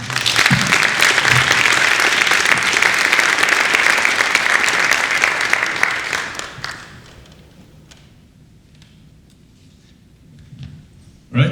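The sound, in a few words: audience applause for the city manager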